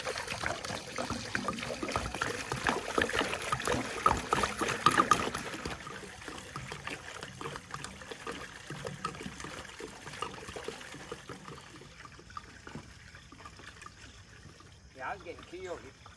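Liquid bleach pours and splashes into a 50-gallon barrel at a deer camp, a loud gushing flow for the first several seconds that thins to trickles and dribbles, with muffled voices in the background.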